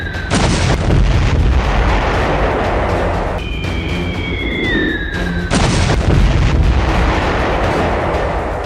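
Army artillery shells Pakistani bunkers: heavy booming blasts ring out near the start and again past midway, each a loud broadband crash with rumbling tails, while a rising whistle streaks between them and a constant roar persists.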